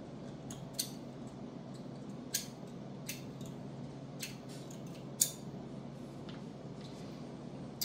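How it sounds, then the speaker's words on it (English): Red-handled scissors snip reptile eggs open, making sharp, close clicks at irregular intervals of a second or so, with a soft room hum underneath. "Yeah, I use the cool red line scissors because that's what I have."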